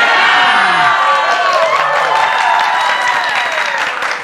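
A large crowd at an evening football event shouts loudly together in a sustained roar, with cheering and scattered whoops carrying across the whole moment.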